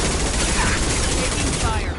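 Dense, loud gunfire fills a short burst of combat in the video game Mass Effect 2, continuous overlapping shots with a voice faintly under the noise.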